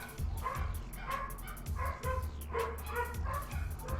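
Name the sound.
dogs barking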